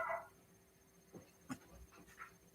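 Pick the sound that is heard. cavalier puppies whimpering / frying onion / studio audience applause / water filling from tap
cavalier puppies whimpering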